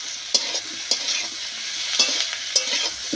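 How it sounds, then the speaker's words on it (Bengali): A spoon stirs tomatoes with salt in a pan, with a soft continuous sizzle and a handful of distinct scraping knocks against the pan at uneven intervals. "আবার একটু বেশ এইভাবে নেড়ে চেড়ে নেব"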